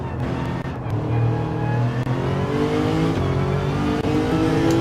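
A Lexus race car in Gran Turismo 7, in an Asian Gr3 online lobby race, revs loudly with rising and falling engine pitch through gear changes, sharp brief shift dips, and steady high-rev acceleration close up.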